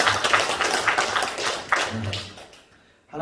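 A church congregation claps during a Sunday service, giving a brief burst of mixed, fairly close hand claps that thins out and fades to near silence. A voice is heard partway through.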